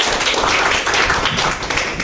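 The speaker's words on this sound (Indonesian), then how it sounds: "Oke, tepuk tangan dulu." Audience applause at a workers' training session, dense steady hand clapping from a crowd filling the whole moment, loud and continuous without talk.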